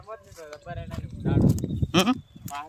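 Goats on a farm bleat in short wavering calls, several in turn, mixed with nearby voices talking over them.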